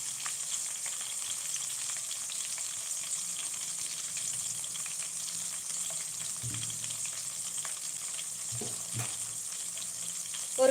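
Onions frying in a pan for sambar rice (bisibelebath), giving a soft, steady sizzle with occasional small stirring clicks, fairly quiet and with no talk.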